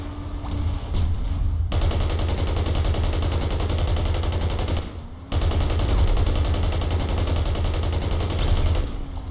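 Sustained automatic gunfire in Battlefield Heroes, loud and close, firing continuously for several seconds, breaking off briefly, then resuming in another long unbroken burst.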